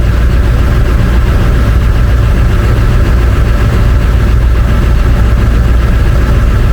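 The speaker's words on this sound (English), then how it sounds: "Things seem to be idling fine." A loud, steady diesel engine of an International truck with a 444E engine and a new turbo idles up close, a constant low throbbing rumble with no change in pace.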